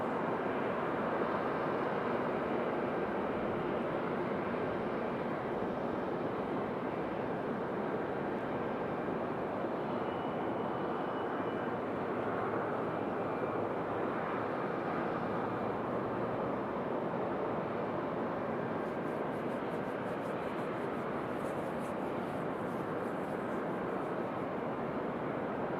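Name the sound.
airplane at Raleigh Durham airport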